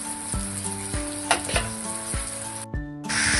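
Capsicum masala curry sizzles in a pan, a steady close frying hiss broken by several sharp clinks of a spoon stirring, with a brief drop near the end before the sizzle returns louder.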